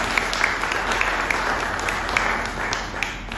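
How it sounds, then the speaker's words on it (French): An audience applauds at an event, a dense, steady wash of clapping filling the room for a few seconds, loud and sustained. "Applaudissez pour lui"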